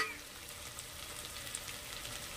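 Masala spices, turmeric, garam masala and fennel powder sautéing with field beans for rice, making a soft, continuous close sizzle and crackle in the pan.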